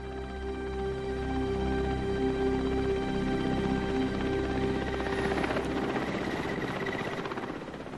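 A helicopter flies over snowy tiger country, its rotor thumping in a steady, loud, continuous drone with a low pulsing beat and engine whine throughout.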